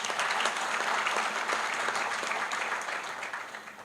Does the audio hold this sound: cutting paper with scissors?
no